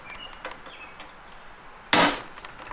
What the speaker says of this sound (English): punch the little tab in the nut to hold it in place so it doesn't spin off